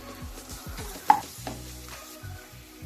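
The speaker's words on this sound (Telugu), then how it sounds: "అల్లం వెల్లుల్లి పేస్ట్ కూడా ఇందులో వేసేసుకొని పచ్చివాసన పోయేంత వరకు వేయించుకోవాలి" Onions and ginger-garlic paste frying in a pan for tomato sweet corn rice, with soft sizzling, spoon scrapes and a sharp clink partway through, no talking.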